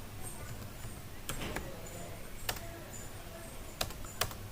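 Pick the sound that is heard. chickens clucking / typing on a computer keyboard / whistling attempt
typing on a computer keyboard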